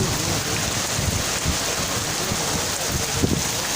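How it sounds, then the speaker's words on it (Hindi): Cold rain falls steadily around an outdoor spot, a dense continuous hiss with gusty wind buffeting the microphone and no voices. "दोस्तों कसम से इस तरफ से बारिश आ रही है"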